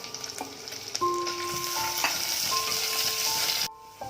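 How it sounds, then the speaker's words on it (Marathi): Onion fries in a pan with garlic paste for a village-style chicken rassa, a loud steady close sizzle with stirring scrapes, ending abruptly near the end, no voices. "कांदा सुद्धा चांगला लालसर भाजून घ्यावा."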